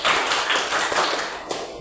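Classroom clapping game with students clapping in counted rhythm, a close, loud burst of many hands striking together in a dense run with a sharper accent near the end.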